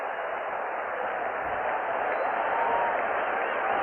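A ballpark baseball crowd applauds Rocky Colavito's strong throw with a dense, steady roar of clapping and cheering that holds at full volume throughout.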